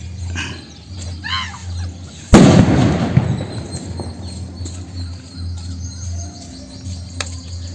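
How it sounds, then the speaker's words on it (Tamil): Paper firecracker going off during Diwali celebrations: one sharp, loud blast midway, followed by crackling debris and a few faint pops, with background chatter and ambient noise before and after. "பேப்பர் வெடி."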